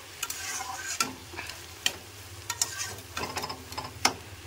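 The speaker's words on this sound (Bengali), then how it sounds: "তবু আমি আরও 2 থেকে 3 মিনিটের জন্য মশলাটাকে কষবো।" Masala with cabbage and shrimp being fried and stirred in a pan, a low steady sizzle punctuated by repeated sharp spatula scrapes and knocks in an irregular rhythm.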